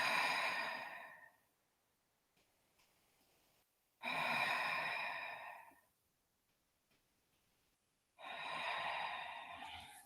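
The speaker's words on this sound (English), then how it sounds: "Breathing." Slow, deep breaths during a yoga forward stretch in a studio, three long close exhales spaced evenly with quiet pauses between.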